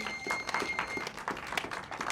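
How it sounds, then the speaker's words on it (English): A brief burst of audience applause at a preshow event, a short scatter of overlapping claps at moderate level. "Wow, a round of applause for that."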